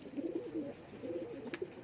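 Pigeons coo softly nearby, two low rolling coos in quick succession, faint and alone in a quiet setting.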